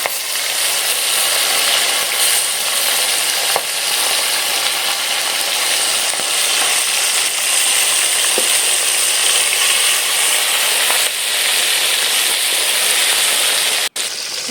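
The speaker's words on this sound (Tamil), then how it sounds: "மீன் எண்ணெயில் போட்டு பொரிச்சு எடுத்துக்கலாம்" Munda kanni fish frying in hot oil: loud, dense, continuous sizzle and crackle, steady throughout, with no one speaking.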